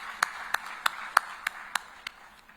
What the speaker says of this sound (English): let's give a big round of applause to MEDC team